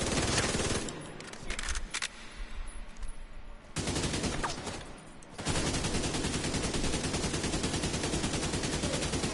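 Rapid automatic gunfire in Division 2, dense continuous bursts of shots that break off into a brief pause with scattered single reports before resuming as a sustained loud volley.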